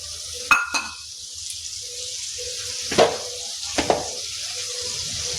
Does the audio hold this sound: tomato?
yes